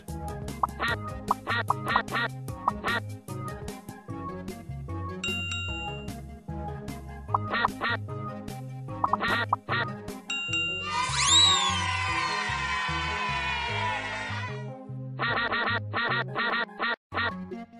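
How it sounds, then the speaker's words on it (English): Cartoonish quacks from the video game Teach Your Monster to Read mixed with bright chiming dings and jingly game music, repeating in lively bursts. "All the ducks have escaped!"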